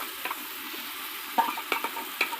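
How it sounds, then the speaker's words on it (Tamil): Ginger garlic paste fries with onions in a pan for country chicken curry, a soft steady sizzle punctuated by several sharp clinks and scrapes of a spoon stirring, close up and without voices. "இஞ்சி பூண்டு பேஸ்ட்டு சேர்த்துக்கலாம்"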